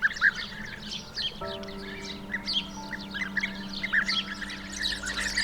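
A migrating colony of European bee-eaters calls, their liquid trilling chirps overlapping in quick bursts, moderately near, over a steady low hum.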